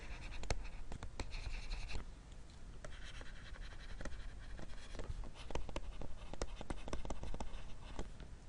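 Pen or marker writing during a math lesson makes steady scratchy strokes with sharp taps and pauses between letters, close and fairly quiet, with no speech over it.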